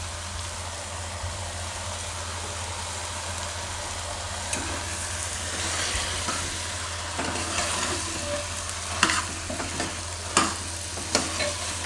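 Bottle gourd and moong dal being stirred through spices in a pan give a steady soft sizzle over a low hum, with scattered spoon scrapes and clinks growing busier toward the end.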